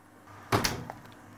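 Oven door opened to check a batch of baking cookies: a sharp thud and rattle of the door, then a couple of softer clicks, with no one speaking.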